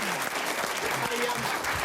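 A crowd applauds to welcome a guest at an evening football show, a continuous, fairly loud patter of many hands with voices mixed in.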